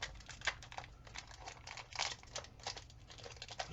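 Crinkly foil wrapper of a Pokémon booster pack being pulled and torn open by hand, a series of close, irregular crackles and rustling tears, fairly quiet.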